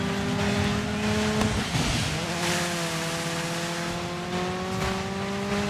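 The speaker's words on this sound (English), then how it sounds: "I can hear the other cars." Several race car engines in the video game Dirt 5 drone and whine together at a steady high pitch, shifting in tone with no talking.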